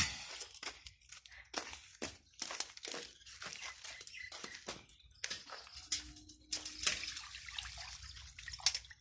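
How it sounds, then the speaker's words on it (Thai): Water is tipped out of a pot while cooking grilled pork neck at home, giving intermittent splashing and pouring bursts mixed with clinks and crinkling, close and fairly quiet. "แล้วจะไปแล้วก็จะเทน้ำออก"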